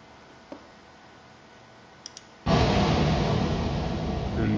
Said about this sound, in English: explosion sound effects for video games and that sort of thing